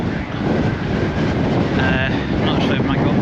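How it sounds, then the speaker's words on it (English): Strong gusts buffet the microphone on Blackpool promenade beside the beach, a loud continuous low roar of wind noise throughout with slight surges, with no voices. "it's pretty windy"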